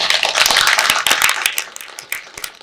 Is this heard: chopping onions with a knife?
no